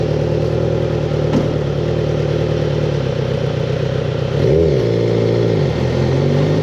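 A buggy engine runs loud and close at full throttle, a steady droning roar that swells briefly midway with a rising rev before settling back to a sustained drone.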